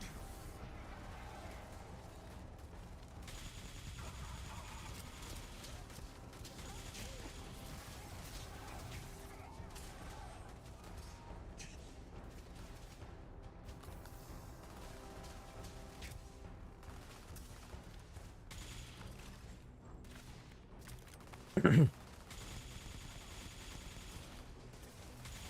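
Gunfire in the video game Starfield: faint scattered shots and bursts under a low rumbling background, with one sharp loud report near the end.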